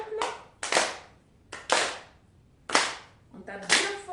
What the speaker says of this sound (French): On va taper dans les mains,